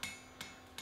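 Forging a Viking shipwright's axe: a hammer strikes the axe eye over a mild steel drift three times, quiet, evenly spaced metallic taps in under a second.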